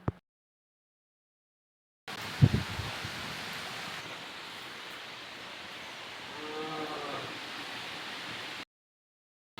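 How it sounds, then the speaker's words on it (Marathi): Strong wind ahead of rain roars steadily outside as a continuous broad rushing noise for several seconds, with a faint voice briefly audible underneath. "बाहेर इकडे मस्त सुटलेली आहे हवा पाऊस येणार आहे"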